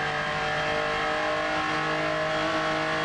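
A roughly 5 to 6 litre naturally aspirated V12 in a racing video game, accelerating with a loud, continuous, tonal drone at a steady high pitch.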